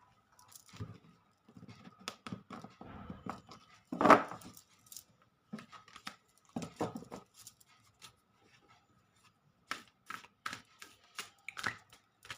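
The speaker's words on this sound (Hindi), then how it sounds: "फिर से कार्ड को शफल कर लेते हैं" A deck of tarot cards is shuffled by hand during a reading, giving quiet, crisp riffling clicks and papery patters in short bursts with brief pauses, close up and without talk.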